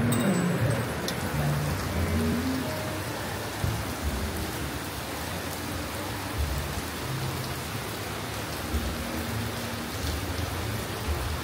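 Heavy rain pours down at a beach cafe, a dense, even hiss of drops on surfaces that carries on without pause and with no talk.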